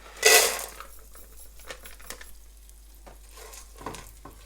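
Ingredient dropped into hot desi ghee for panjiri over a low flame, a sudden loud sizzling burst that quickly fades into soft crackling and light stirring clinks nearby.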